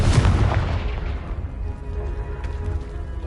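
A Confringo fire spell from Hogwarts Legacy blasts a pile of debris in one loud, booming explosion at the start, followed by a rumbling decay and lingering crackle.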